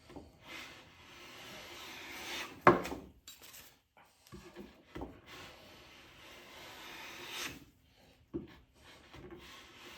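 A Lie-Nielsen No. 4 bench plane shaving wood in a series of close rasping strokes, with one sharper knock near the start and quieter scraping passes between them.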